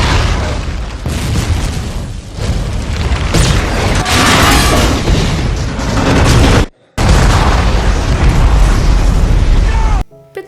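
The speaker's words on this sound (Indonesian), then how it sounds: "Tak lama setelah itu, terjadi ledakan yang sangat besar." A massive explosion tears through an offshore oil rig in the Deepwater Horizon disaster film, a loud roaring, rumbling blast that rolls on for seconds, cuts out briefly, then resumes with crashing debris.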